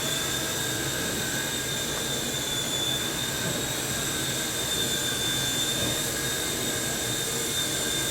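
The small T-Rex 100X RC helicopter lifts off, and its motor and rotors give a steady high buzzing whine with tonal hum that stays close, constant and unbroken throughout.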